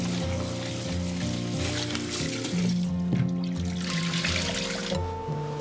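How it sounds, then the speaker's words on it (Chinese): Running water rinsing peeled crayfish tails in a basin, a steady close splashing trickle with faint clatter throughout and no talk. "接着我们把这个龙虾尾给它多淘洗几遍。"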